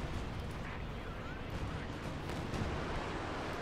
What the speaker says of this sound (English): Pack 40 firing away there